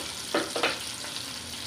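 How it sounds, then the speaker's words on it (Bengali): Onion frying in a pan hisses steadily up close, broken by two quick scraping stirs early on and a softer one after, with no talking. "এখানে আমি পেঁয়াজটা একটু নাড়াচাড়া করতেছি।"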